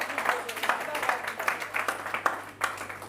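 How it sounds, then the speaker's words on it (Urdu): An audience at a poetry gathering claps in a loud, sustained round of applause, sharp hand claps overlapping steadily across the whole stretch with a faint hum underneath. "ایک بار زوردار تالیاں"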